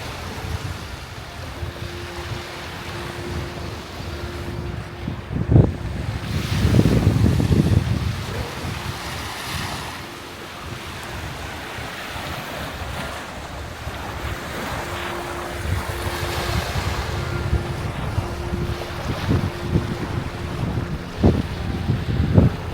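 Waves washing ashore on Lake Michigan at North Bar Beach near Sleeping Bear Dunes, with surges of surf rising and falling over steady gusting wind buffeting the microphone.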